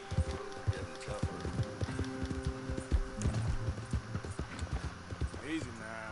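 Rhythmic hoofbeats of a horse in a PS4 video game, clip-clopping at a steady pace with a brief whinny near the end, heard beneath game music and background noise.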